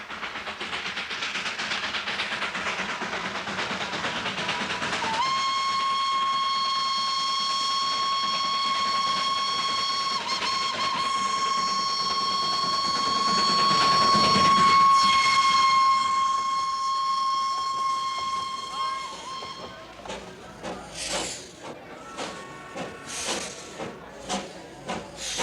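A small steam hill train runs through the town of Kurseong, sounding a long, loud steam whistle over a hissing background before the whistle gives way to rhythmic chuffing and clanking as the train moves on.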